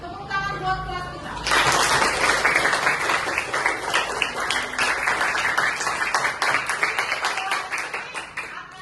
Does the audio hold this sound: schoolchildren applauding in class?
yes